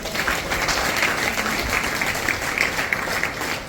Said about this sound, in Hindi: जरा जोरदार तालियां हो जाए